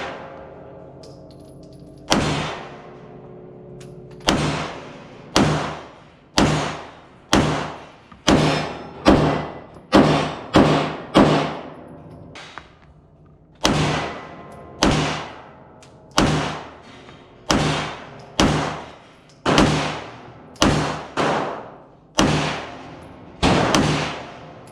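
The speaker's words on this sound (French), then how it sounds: "Une cartouche qui est partie." Repeated firearm shots from military-style weapons, about sixteen sharp loud bangs in an irregular series, each with a short decaying tail, fired close by with no talk.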